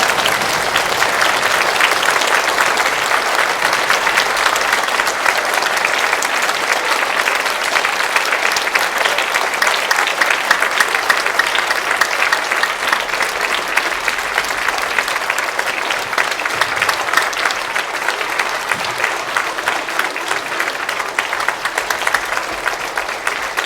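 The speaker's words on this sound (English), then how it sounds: "So if you could all stand and give them a round of applause" A school Veteran's Day assembly audience standing to applaud veterans, loud sustained clapping from a large crowd that holds steady for over twenty seconds with no voices over it.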